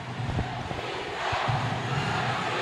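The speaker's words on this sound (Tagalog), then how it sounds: "And Davao crowd now getting involved." A Davao crowd at a Palarong Pambansa championship basketball game between Davao and Calabarzon, a broad, steady roar of cheering from a large audience that swells slightly, no clear talk above it.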